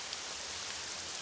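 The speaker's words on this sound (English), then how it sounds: "there's this rain in the way." Steady rain hisses in Morrowind, an even wash of dense falling drops with no pauses and no voices, moderately loud throughout.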